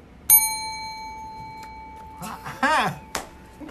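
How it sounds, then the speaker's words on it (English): A single bright bell ding rings out and lingers during a live magic show, followed by excited voices talking nearby. "Oh, bell."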